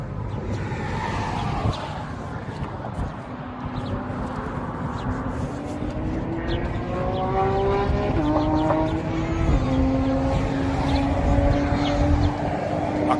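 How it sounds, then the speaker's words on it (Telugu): Race cars drive laps in the background at a Las Vegas venue, engines revving up through rising gear shifts in a continuous roar at moderate distance, with no one speaking. "ఆ కార్ రేసింగ్ సౌండ్లు వినపడుతున్నాయా బ్యాక్ సైడ్?"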